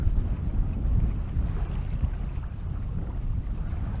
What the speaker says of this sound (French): Alors j'ai un vent de travers